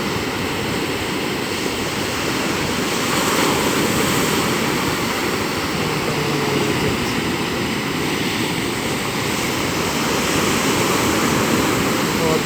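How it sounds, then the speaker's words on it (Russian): Large sea wave where a river flows into the sea: a loud, continuous roar of breaking surf and rushing water, dense and unbroken from start to finish. "Вот большая волна."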